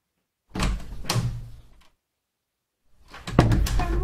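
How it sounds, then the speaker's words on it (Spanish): A door swinging shut in a draft, with two separate bursts of wooden banging and rattling split by a second of silence, close and moderately loud. "una corriente de aire se generó y se cerró la puerta"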